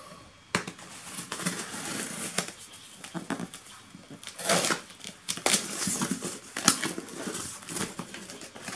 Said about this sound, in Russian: Давайте откроем, посмотрим, что там внутри.